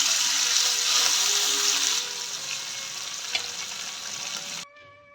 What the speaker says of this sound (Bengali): ভাজার জন্য আমি একে একে মাছ ভাজছি।